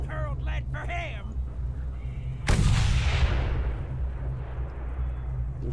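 A heavy gunshot blast booms out in the Mad Max video game while snipers are taken out, a single loud crack with a long rumbling decay, preceded by speech-like chatter.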